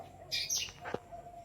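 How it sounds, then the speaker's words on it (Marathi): A few quick, high sparrow chirps close by, brief and bright, over a quiet room hum. "बाहेर बघा चिमण्यांचा चिवचिवाट किती आहे"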